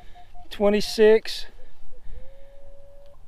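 A metal detector gives a steady rising electronic tone over a buried coin target, a thin sustained beep heard alone after someone speaks briefly.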